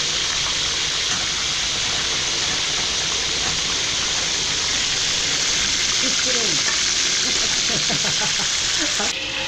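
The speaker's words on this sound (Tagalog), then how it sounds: "gisa na natin yung ano natin. Pork sterid." Pork sautéing in a pan in a restaurant kitchen gives a steady, loud, broadband sizzle throughout, with clattery stirring and a few brief vocal-like sounds toward the end.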